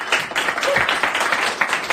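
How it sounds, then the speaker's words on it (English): Brief studio audience applause, a couple of seconds of scattered, moderately loud clapping with a faint voice underneath. "But a little applause never hurts."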